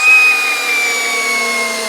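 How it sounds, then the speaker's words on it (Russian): A Devetech CIS 120 cordless drill bores steadily into a timber beam in drilling mode, giving a continuous loud whine with a high tonal motor pitch and no pauses. "Переключаю на сверление и пробуем, что у нас получится дальше."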